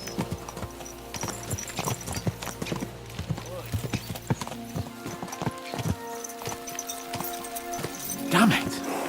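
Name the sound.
horses galloping in video game Kingdom Come Deliverance 2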